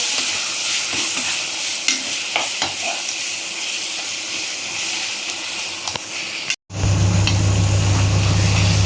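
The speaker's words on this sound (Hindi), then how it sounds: "बस अब अच्छे से पूरा फ्राई कर लेते हैं सभी मसालों को।" Spices with chilli powder and garlic ginger paste frying in a pan, steady loud sizzling with occasional stirring scrapes, broken by a brief cut before a louder hiss resumes with a low steady hum.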